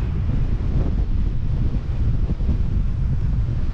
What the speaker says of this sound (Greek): Και εδώ είναι η θάλασσα.